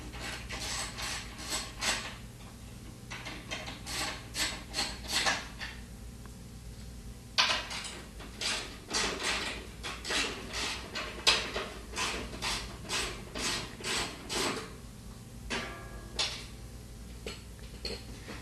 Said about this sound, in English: Using a 1/2" socket, remove the 2 tub to molder mount screws and washers.